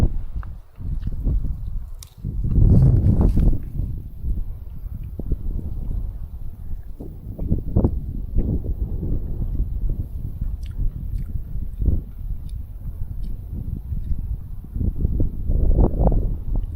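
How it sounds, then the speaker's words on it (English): Gusty wind buffeting the microphone in heavy low rumbles during an August garden harvest, rising and falling throughout with occasional crunchy rustles. "It's quite windy."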